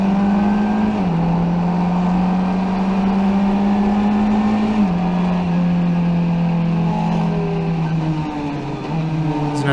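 Formula 1600 race car during a 2018 race, its engine loud and close as it accelerates through gears, with steady high revs, brief drops at each shift, then climbing again, no talk over it.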